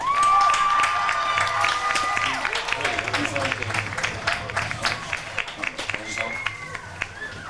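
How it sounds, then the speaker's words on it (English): Football crowd at a high school Halloween Bowl applauding the Orange team's coaching staff, scattered clapping and cheering, with a loud whistle-like tone at the start and voices throughout, thinning into sporadic claps. "Let's give them a big round of applause."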